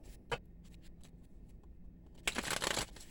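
Cards being shuffled: a quick riffle, scattered light taps, then a longer crisp riffling burst near the end, close and quiet.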